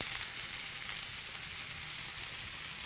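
Brussels sprouts pan-searing, giving a soft, even hiss of sizzling fat that holds steady throughout without voices or stirring.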